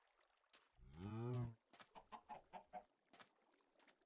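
Chicken clucking from a video game wheelbarrow mod: a loud squawk near the start, then a run of about six short rhythmic clucks, fairly close and with no talking.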